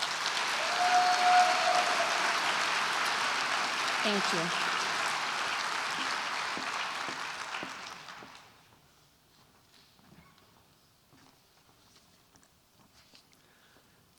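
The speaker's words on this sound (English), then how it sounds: "So please give our staff at DSU a very big, warm hand of applause." Staff at a Dixie State University address receive a big, warm round of applause that fills the hall loudly for about eight seconds, then fades into a quiet room with faint rustles and a brief spoken thanks.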